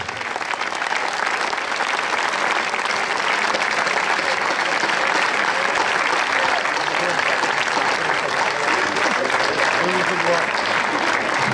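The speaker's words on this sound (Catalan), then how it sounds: "Un fort aplaudiment per la família futbolística de Porreig." An audience at a football club's team presentation and veterans' tribute in Puig-reig breaks into sustained, loud applause, a dense even clatter of many hands that carries on without pause.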